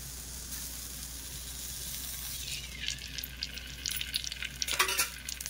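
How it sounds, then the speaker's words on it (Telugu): Oil hisses and crackles in a pan as it heats for frying an Andhra-style gongura pickle, a soft steady sizzle that grows livelier toward the end with a few scraping stirs, close and moderately quiet. "ఇప్పుడు ఫ్రై చేసుకోవడానికి నూనె వేసుకుందామండి"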